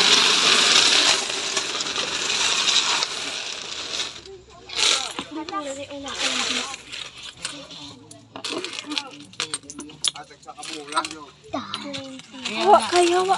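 Coins are set down on a table, giving metallic clinks and jingles at the start, followed by children and adults talking.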